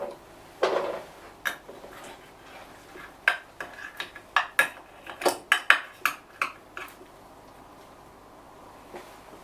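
Cutlery and dishes clink and tap in a busy run of sharp knocks while baked egg and yam with pesto pimento pepper is served. The strikes are close and irregular, then fade to quiet.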